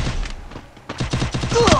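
Gunfire in the battle royale game Free Fire during a ranked 4v4 match, a rapid burst of sharp shots after a brief pause, loud and close.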